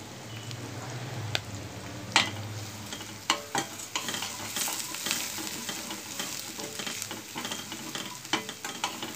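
Ginger paste and chili powder fry in a pan for an okra tamarind curry, giving a steady close sizzle broken by repeated clacks and scrapes of stirring.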